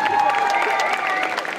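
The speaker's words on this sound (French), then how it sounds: "on peut les applaudir, toute l'équipe" Audience at a cosplay costume contest applauding and cheering for the staff, a dense wash of clapping and crowd noise, steady and fairly close.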